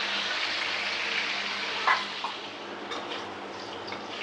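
Salted potato pieces fry in hot oil in a pan for a potato and pointed gourd curry, giving a continuous close sizzling hiss with a few faint clinks of a utensil and no speech.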